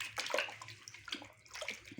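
Raw chicken is washed by hand in a bowl of water in a home kitchen, with irregular sloshing and splashing bursts, close and fairly soft, broken by brief pauses.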